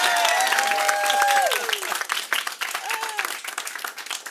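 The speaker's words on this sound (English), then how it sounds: "A round of applause to our Comptroller, Scott Stringer" Audience clapping at a press conference on e-cigarettes, with a sustained voice over the applause in the first half before it thins into looser, uneven claps that fade toward the end.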